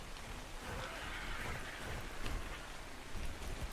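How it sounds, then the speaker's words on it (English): Steady rainfall in the video game ARK Survival Ascended, a dense even hiss of drops with no voices and no breaks. "I can't actually drink any water from the rain, which is silly"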